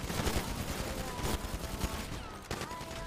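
Rapid bursts of gunfire in the NoPixel roleplay game, a dense volley of shots that thins out near the end.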